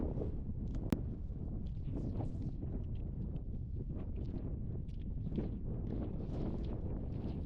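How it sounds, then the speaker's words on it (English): Steady wind roars and buffets the microphone continuously on a boggy hillside in Snowdonia, with no let-up for the whole stretch. "Very windy though."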